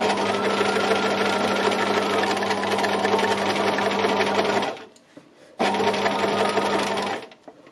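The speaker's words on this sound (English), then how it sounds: "I'm just not stitching anywhere near the pin" A sewing machine stitching pinned fabric runs in a steady, fast mechanical whir for several seconds, pauses briefly, then runs again before stopping; close and clear with no talking.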